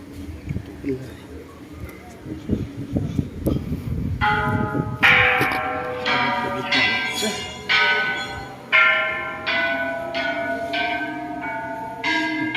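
Struck metal bells at a Thai temple ring out in a steady series of clear, resonant strokes with lingering decay, starting partway through over outdoor ambience and someone talking in the background.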